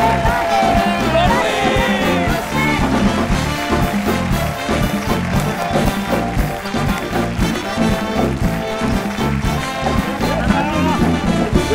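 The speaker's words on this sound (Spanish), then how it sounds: "Recibamos con un fuerte aplauso a La Chupitos y a Don Luis de Alba." A television talk-show studio audience applauds and cheers to welcome guests, sustaining a loud, rhythmic clapping roar with whoops and shouts throughout, while music plays underneath.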